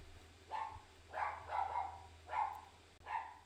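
Dogs bark indoors somewhere in a house, four distinct mid-distance barks in an irregular rhythm over a low steady hum, no talk.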